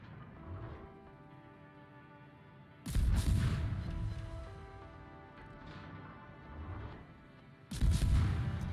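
Naval guns firing high-explosive shells in World of Warships, heard from a German T-61 destroyer: two loud booming salvos with rumbling tails, separated by quieter engine and ambient game hum.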